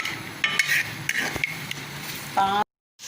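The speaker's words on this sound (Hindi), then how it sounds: "प्याज को हमने ब्राउन करना है।" Onions sizzle and brown in a hot pan for a potato pulao, a steady frying hiss with scraping stirs and a few clinks, ending abruptly.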